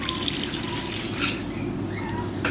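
Salt water is poured into a bowl for baguette dough, giving a soft, light splash and trickle over a low background hum, with a couple of faint clinks.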